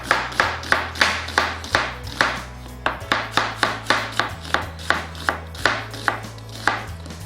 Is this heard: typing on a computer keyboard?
no